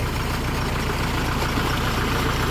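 Single-cylinder engine idling steadily while driving a water pump for flooding or draining a rice paddy, a continuous low rumble with regular firing pulses, fairly close and uninterrupted.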